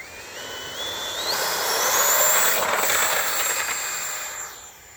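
80 mm electric ducted fan motor on an RC Jetwing spooling up: a high whine climbs steadily in pitch, swelling to a loud rushing roar, then eases slightly at the end, close by with no talking.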